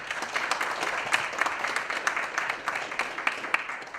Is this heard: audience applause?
yes